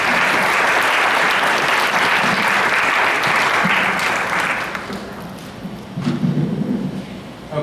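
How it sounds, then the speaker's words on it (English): An audience at a holiday celebration gives a loud round of applause for a performing ensemble. The dense clapping fades after a few seconds, and a voice begins speaking. "Please give them another round of applause."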